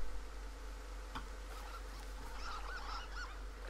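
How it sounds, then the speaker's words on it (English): In the video game Firewatch, faint, squeaky honks like rubber ducks or geese sound in a cluster toward the end, over a low steady hum with a single tick earlier. "Sound like rubber ducks."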